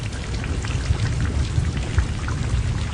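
Steady rainfall in a rural village, a dense continuous patter with a low rumbling undertone, constant and fairly loud throughout with no voices.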